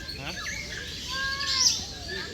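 Birds calling at Bird Paradise, a few clear chirps and whistled call notes rising over a busy outdoor crowd, with nearby voices and someone talking underneath.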